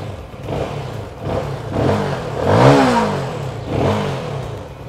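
An MBP K249N motorcycle engine revs repeatedly close by, rising and falling in pitch with each throttle blip over a steady rumbling idle.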